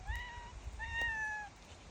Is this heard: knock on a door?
no